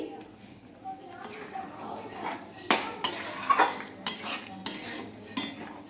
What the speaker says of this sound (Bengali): ভালোভাবে মিশিয়ে নিচ্ছি।